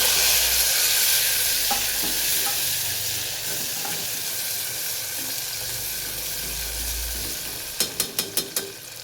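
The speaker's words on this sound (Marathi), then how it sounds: "अशा प्रकारे कांदा तळून घ्यायचा आहे" Onion frying in a pan with cumin and tomato, a steady close sizzle with occasional stirring scrapes, ending in a quick run of sharp taps of a utensil against the pan.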